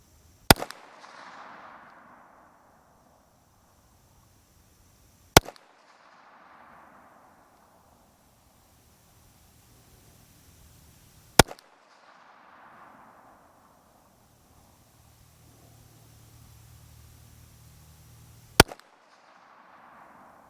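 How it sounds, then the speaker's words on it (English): A Volquartsen Scorpion .22 WMR pistol fires four single shots outdoors. Each crack is sharp and loud, spaced several seconds apart, with a short fading echo and quiet in between. "All right, 5 shots, so 15 shots downrange."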